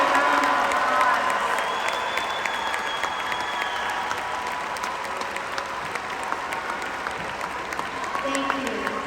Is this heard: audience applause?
yes